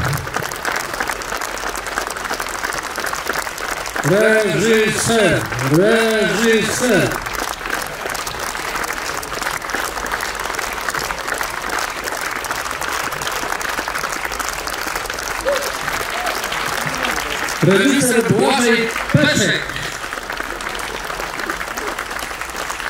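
Large audience applauding steadily after an opera performance of Kolberg's "Król Pasterzy" in Krościenko, dense clapping throughout with a voice loudly announcing names over it twice.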